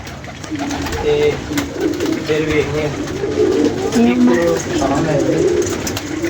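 Pigeons coo repeatedly and closely in soft, rolling phrases that overlap one another, with a voice talking now and then over them.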